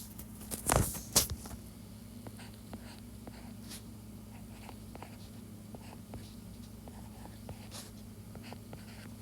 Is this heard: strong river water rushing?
no